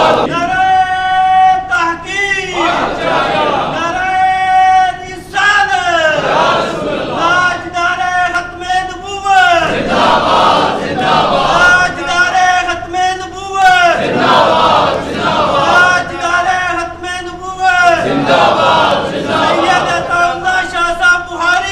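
A large crowd at a religious speech chants slogans in repeated rhythmic waves, loud call-and-response rounds with many voices shouting together in unison, one round following another.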